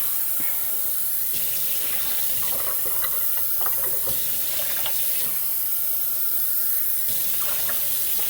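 Tap water runs steadily into a zip bag for a homemade ice pack of isopropyl alcohol and water, a continuous close splashing hiss with shifting bubbly gurgles.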